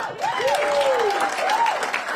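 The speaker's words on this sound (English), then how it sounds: "Give him a round of applause." Audience applause at a political concession event in the Illinois GOP gubernatorial race, a steady wash of clapping with a whistle-like tone gliding through it, moderately loud.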